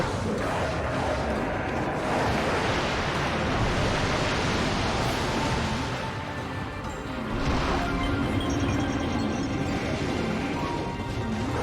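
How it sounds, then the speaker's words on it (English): In a video game, a water-headed snake thrashes and splashes, giving a continuous rushing, surging wash of water with swelling bursts, moderately loud and steady throughout. "The waterhead just likes to splash around."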